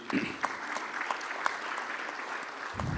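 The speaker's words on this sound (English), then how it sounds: "I'll request all of you once again to please give huge round of applause to Ashutosh ji." A steady wash of clapping from a conference audience, moderate and even, with a voice starting up near the end.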